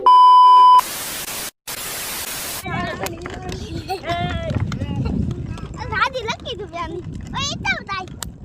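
A buffalo-drawn cart moves along with clip-clopping hoof steps and rolling noise, while several voices talk and call over it after a few short bursts of beeping and hiss.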